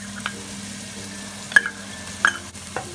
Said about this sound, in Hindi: अब हम इस गार्लिक को तकरीबन 1 मिनट तक अच्छी तरह से जो है वो भूनेंगे